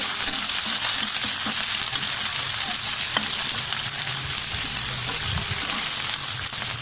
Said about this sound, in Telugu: ఈ ఆనియన్స్ కొంచెం లైట్గా మెత్తబడే వరకు కూడా వేయించుకోవాలి